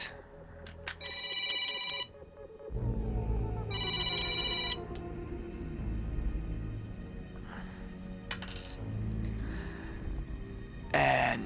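A telephone rings for an incoming call in repeated bright electronic bursts, with a low murmur of sound between the rings.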